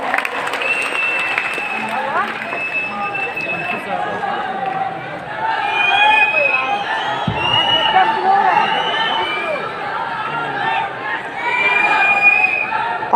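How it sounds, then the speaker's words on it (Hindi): Students clap and cheer at a live PW Patna education event in Bapu Sabhagar, the applause dense and sustained with shouts and crowd chatter mixed in, swelling louder partway through. "तालियां बजाओ।"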